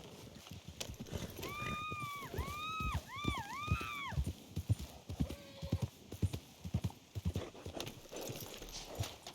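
Horse hooves clip-clop at a steady walking rhythm in the video game Red Dead Redemption 2, close and clear, with a brief whinny-like call early on.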